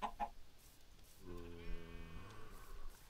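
Blocky game chicken clucking from Minecraft-style play, a short harmonic cluck-bleat lasting about a second in the middle of the clip, moderately loud over quiet background.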